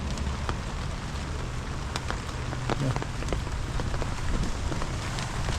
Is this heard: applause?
no